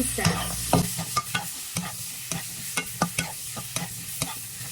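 Vegetables, including carrots, being sautéed in a pan for beef chop suey, with an even frying hiss and rhythmic, close spatula clacks against the pan repeating about twice a second.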